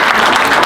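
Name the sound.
audience applause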